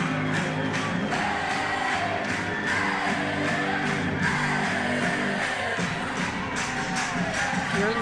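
Stadium crowd at an NCAA softball championship game roaring and cheering after a game-tying home run, a dense, steady wall of yells and whoops sustained throughout.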